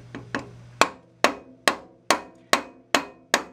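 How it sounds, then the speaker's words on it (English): A hammer taps a helical segmented cutter head shaft home against a washer and nut on a Makita 2020 8-inch jointer: two light taps, then six sharp, evenly spaced metallic blows, close and alone. "I'm going to put a washer and a nut on here so that I can tap on the shaft to take it the rest of the way home"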